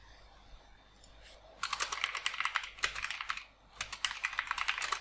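Rapid typing on a computer keyboard, close and clear, with dense bursts of key clicks, a short pause around three and a half seconds, then another flurry of keystrokes.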